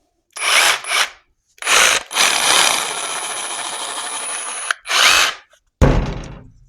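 Harbor Freight Hercules jigsaw running in short bursts: a few quick whirring revs, then a sustained high buzzing run of about two and a half seconds, another brief burst, and a final clunk, loud and close.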